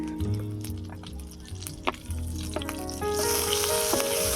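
Oil and butter sizzling in a pan, heard as a steady close frying hiss with a small tap partway through, then growing louder and brighter in the last second or so.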